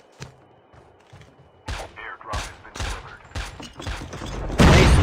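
A grenade explosion in a Call of Duty: Mobile battle royale match: scattered sharp pops and thuds build in a loose rhythm, ending in one loud, broad blast.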